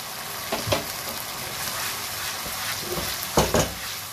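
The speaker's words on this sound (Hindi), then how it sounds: "अब इसको तेज आंच पे पकाइए।" Beef keema with spaghetti cooks on high heat in a pan, giving a continuous loud sizzle with a few brief stirring scrapes, close up and with no talking.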